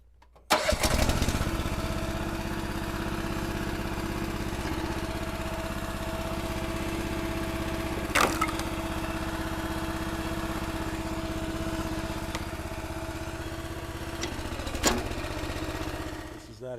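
An engine-driven log splitter starts up and settles into a steady, close mechanical drone while working on old oak rounds, with a couple of sharp cracks rising above the engine.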